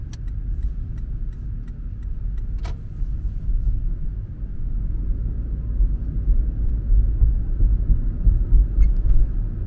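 A car on a Glendale street during a driving test pulls away as the accelerator is pressed, giving a low engine rumble that grows slightly louder over the final seconds, with a faint ticking early on.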